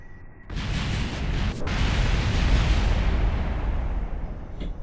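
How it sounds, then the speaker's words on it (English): A sudden booming video game explosion erupts and rolls into a sustained, roaring rumble that lingers for several seconds, loud and dense. "get ready for either a letdown or spectacular explosions"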